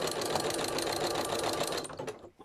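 Sewing machine stitching a decorative cord, running continuously with a fast, even mechanical chatter, close and loud, then stopping abruptly at the end.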